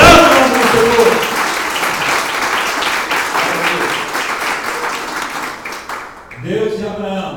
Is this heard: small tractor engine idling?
no